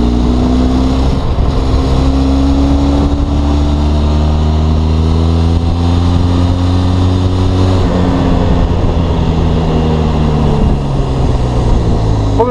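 A Benelli TRK 502 motorcycle engine pulls uphill in fourth gear at low speed on a mountain road, a steady, loud twin-cylinder drone rising gradually in pitch, close and continuous with wind rumble.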